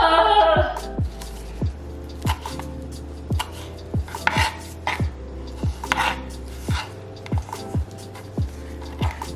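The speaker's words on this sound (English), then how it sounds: "So what I'm doing right now is just bunching it up and doing little chops." A small knife chops through a bunch of gathered herb leaves on a cutting board, about a dozen crisp, evenly spaced cuts ringing out close and clear with little else around them.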